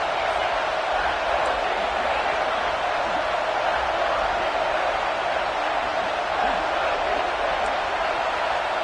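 A college football video game stadium crowd roars as a continuous, loud, even wash of noise that does not let up.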